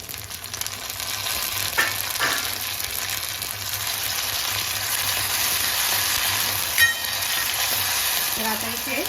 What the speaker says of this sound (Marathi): टोमॅटो आपल्याला हलकासा मऊ होईपर्यंत चांगलं परतून घ्यायचं